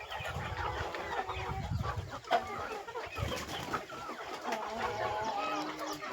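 A flock of about four hundred country chickens on a small village poultry farm clucks and calls in overlapping bursts, some near and some farther off, over a low rustling background.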